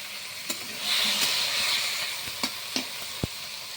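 Chopped eggplant and pumpkin peels fry in hot oil in a wok, giving a steady close sizzle that swells after the vegetables drop in, with a few sharp spatula clicks and taps against the metal.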